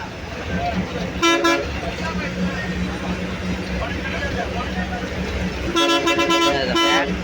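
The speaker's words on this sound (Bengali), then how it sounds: "হর্ন দেখো, হর্ন" Two bursts of a loud bus horn blaring on a Pondicherry to Villupuram ride, one early and a longer double honk near the end, over steady engine rumble and street noise.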